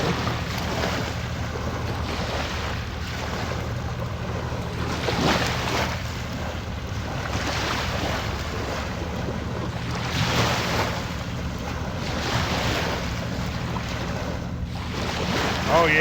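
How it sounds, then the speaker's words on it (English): A big barge passing on a Kentucky river, heard as a continuous low rumbling wash with wind noise, steady and fairly loud, with slow swells in intensity. "I haven't seen a barge that big come through the river for a while."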